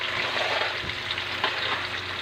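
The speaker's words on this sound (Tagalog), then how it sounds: "ito naman po yung niluluto ni Mama Pics. Turon na naman." Turon, banana spring rolls, fry in oil in a pan with a steady, dense crackling sizzle that runs unbroken and close, with a few faint stirring knocks and no voices.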